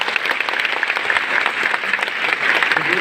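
Children in a packed lecture hall applaud together, producing dense, loud, continuous clapping that holds steady throughout.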